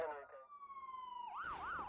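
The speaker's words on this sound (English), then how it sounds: "They got the ambulance over there?" An ambulance siren close by at night, a long falling wail that switches into a rapid rising-and-falling yelp, loud and alone for most of the stretch.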